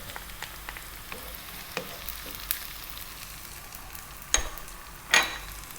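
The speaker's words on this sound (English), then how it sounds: "I'm going to drop in 2 tablespoons of chopped garlic. And a small amount of onion." Chopped garlic and a little onion hitting an oiled pan over fairly high heat, giving a quiet steady sizzle with a few sharper pops and spatters near the end.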